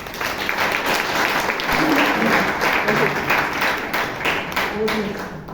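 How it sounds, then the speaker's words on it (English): A Toastmasters club audience in Bangalore gives a round of applause, a loud, dense and sustained clapping from a roomful of people that holds steady for several seconds. "So let's give him a round of applause."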